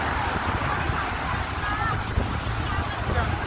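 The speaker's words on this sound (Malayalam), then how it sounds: "ബോട്ട് തിരമാലകളെ താണ്ടി മുന്നോട്ട് നീങ്ങുന്നു" Sea waves wash and churn around a boat riding the surf off Kozhikode beach, a steady broadband roar with wind buffeting the microphone throughout.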